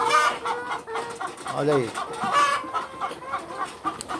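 Farm-raised chickens cluck repeatedly nearby, with several overlapping calls and a drawn-out squawk in the middle, while someone speaks briefly over them.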